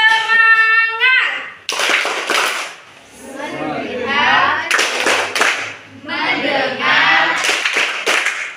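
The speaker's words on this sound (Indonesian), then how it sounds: "Tepuk semangat" A classroom of schoolchildren doing a rhythmic spirit clap, sharp bursts of hand claps in patterned groups with children's voices chanting in between.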